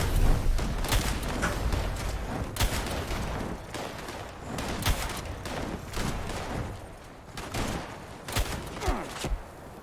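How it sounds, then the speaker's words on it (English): Gunfire from mole miners in the Fallout 76 video game: repeated loud sharp shots and bursts, some in quick clusters, scattered across the stretch with rumbling between them. "Where is the mole miner that's shooting at me?"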